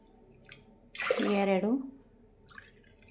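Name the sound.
pouring cups of water into a pot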